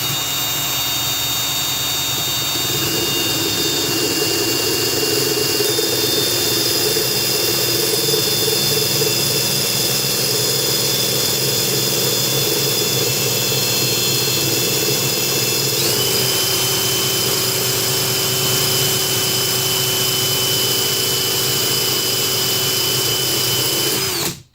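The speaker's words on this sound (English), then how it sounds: "So once I start the drill here, you're not going to be able to hear me" A drill bit is sharpened on a grinder, producing a loud, continuous high-pitched grinding whine with a steady motor hum that holds for the whole stretch, with no talking.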